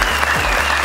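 Studio audience on a Family Feud style game show breaks into a brief burst of loud, dense clapping that fills the whole moment.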